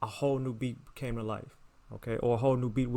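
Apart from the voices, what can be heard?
No distinct noise like a dog, phone or traffic.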